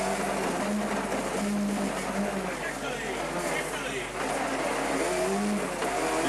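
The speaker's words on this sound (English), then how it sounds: "As he pushes the little Mazda on as quickly as he possibly can." A small Mazda rally car racing flat out on a French rally stage in 1997, its engine droning loud and steady with shifting pitch throughout, a commentator speaking over the top.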